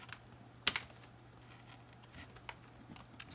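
A metal bar pushed through a hole in an HP ProBook 4530s laptop pops the keyboard loose with one sharp plastic click-and-snap, then a few faint ticks against a low steady hum.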